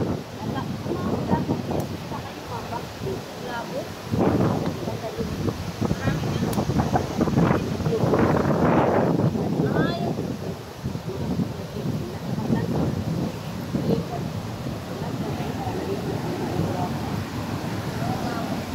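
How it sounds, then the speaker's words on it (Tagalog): Strong wind on Boracay Island buffets the microphone in loud, rumbling gusts, with faint voices partly buried underneath. "ang lakas-lakas ng hangin"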